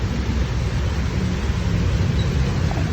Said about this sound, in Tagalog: Nabotan pa kami ng malakas na ulan